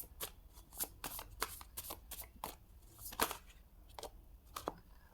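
Tarot cards are shuffled by hand at close range, giving a quick irregular patter of crisp riffling snaps and light slaps against a quiet background.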